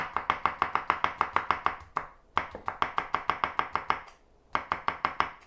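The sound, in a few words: chopping vegetables with a knife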